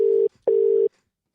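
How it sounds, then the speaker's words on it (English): A telephone call tone, two steady beeps, the first short and the second longer, sounding loud and close with a brief gap between them and no voices. "I'll just dial it now, and it should be ringing any second now"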